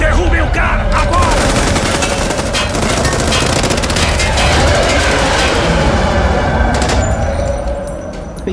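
Dense, loud bursts of rapid gunfire in Batman: Arkham Origins pour out almost continuously, mixed with game sound effects and tailing off near the end.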